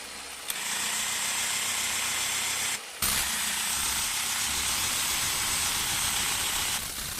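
A Parkside cordless hammer drill in plain drilling mode whirs loudly and steadily, stopping briefly for a moment before starting up again and running for several more seconds.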